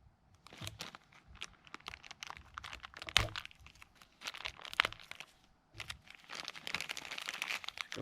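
Plastic packaging holding a black Harley-Davidson 6-way socket connector housing is crinkled and torn open by hand, close and fairly quiet, with irregular bursts of crackling, ripping and crunching and a brief pause midway.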